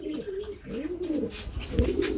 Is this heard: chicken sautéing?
no